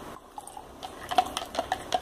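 A spoon stirs a homemade glass cleaner of alcohol vinegar, hot water and cornstarch, giving light, quiet clinks and scrapes that grow more frequent in the second half, with no talking.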